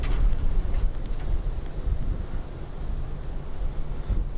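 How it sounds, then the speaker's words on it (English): Wind and rain at Dublin Airport make a constant rushing roar with gusty buffeting against the microphone and a broad hiss of rainfall throughout, fairly loud and with no voices. "As you can probably hear, quite windy and it's raining."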